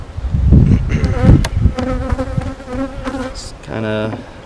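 Honeybees buzz loudly and close at an open beehive with a honey super, a droning hum with individual bees passing near, mixed with handling clatter.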